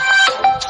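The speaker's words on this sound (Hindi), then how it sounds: "भाई फोन आ रहा है।" Mobile phone ringtone playing a short melodic electronic tune, clear and fairly close, during an outdoor cricket match.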